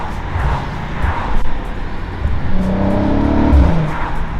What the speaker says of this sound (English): Let's have some downshifting fun before we get home. There's the sound.